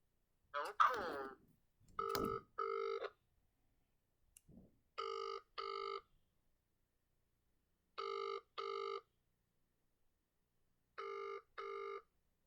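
A telephone rings in repeated double bursts, three pairs spaced evenly apart, clear and close, after a few brief clattering noises at the start.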